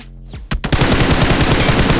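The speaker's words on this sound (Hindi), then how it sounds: "मेरे ऊपर भी कहीं से फायरिंग आ गया।" Rapid automatic gunfire in a battle royale video game, a dense, loud stream of shots that opens with a couple of isolated bangs and then runs continuously, with no talking.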